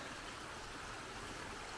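Stream water runs steadily past a beaver dam, a soft, even broadband rush with no breaks or other sounds over its brief span.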